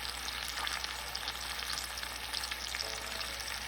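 Chicken frying in a pressure cooker with crushed ginger and garlic gives a steady close sizzle with light stirring scrapes, continuous and alone.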